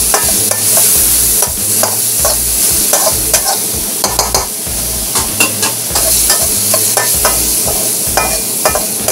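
Spices for chicken asam pedas sauté loudly in hot oil, a dense continuous sizzle broken by repeated rhythmic scrapes and clanks of a spatula stirring the pan.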